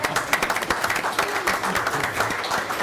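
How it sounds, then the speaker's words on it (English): A village council meeting room breaks into applause for a birthday, a steady patter of many hands clapping close by, dense and continuous with light murmuring. "let's applaud Brittany for her birthday."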